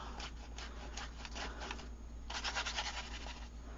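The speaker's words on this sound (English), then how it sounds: "I'll do a bit more scribbling down this bottom end here" Caran d'Ache Neocolor II crayons scribbling on a junk journal page: faint, steady scratchy rubbing strokes, close up, growing slightly busier near the end, with no talking.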